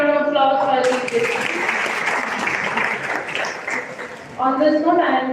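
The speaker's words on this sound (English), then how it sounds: "Once again, a big round of applause for the" Applause from a college orientation audience for law students swells between voices, a dense clapping wash of several seconds, with a person talking at the start and again at the end.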